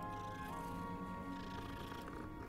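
A cat in Hogwarts Legacy purrs steadily and close, a continuous low rumble that runs the whole time beneath sustained tones of game music.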